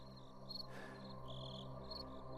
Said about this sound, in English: All Vince could hear were the crickets and his own breathing.